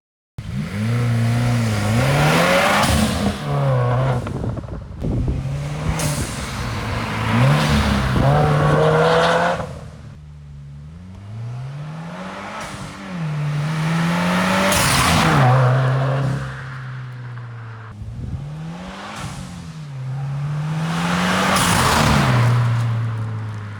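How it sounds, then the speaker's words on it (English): A VA-generation Subaru WRX fitted with a GFB blow-off valve makes repeated hard pulls, heard from outside the car: the engine revs climb loudly, then drop away between pulls, with sharp valve releases as the throttle closes and no talking. "That is my blow-off valve install for the Subaru. So I'll let you hear it from the outside."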